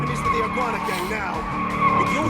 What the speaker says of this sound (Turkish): Drift atabiliyorum.